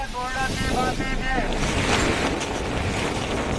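Stormy seas at high tide off Mumbai during Cyclone Tauktae churn in a loud, continuous wash of surf with heavy wind buffeting. Brief tonal sounds appear early, then the roar carries on alone.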